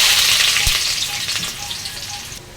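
Onion fries in hot oil in a wok with a loud, continuous sizzle, with occasional stirring scrapes, tapering slightly toward the end.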